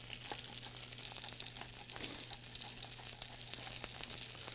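Pepper-crusted beef tenderloin searing in a hot pan, a steady close sizzle and fry with scattered small pops and spatters, alone with no talk.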